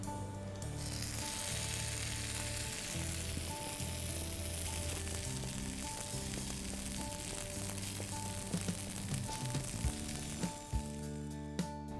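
A Hawaiian pizza quesadilla frying in a pan greased with a little olive or regular oil, giving a steady, soft sizzle throughout with a few faint clicks near the end.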